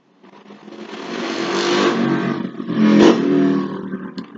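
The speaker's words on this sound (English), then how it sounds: "That was a motorcycle." A motorcycle passing outside a window, its engine rising from silence to a loud, revving roar that swells twice before fading.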